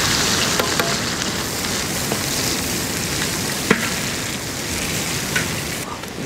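Onions fry in ghee alongside cinnamon, cloves and cardamom, giving a steady dense sizzle with a few sharp pops and clinks of stirring, no voices.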